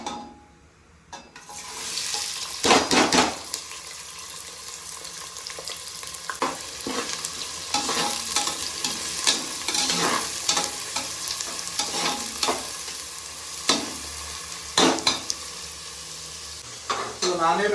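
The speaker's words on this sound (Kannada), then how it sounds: "ಹಚ್ಚಿಟ್ಕೊಂಡಂತಹ ಈರುಳ್ಳಿ ಹಾಕೊಳ್ಳೋಣ." Chopped onions frying in a pot with biryani spices while being stirred, a steady sizzle broken by scraping spoon strokes and clattery bursts, heard up close.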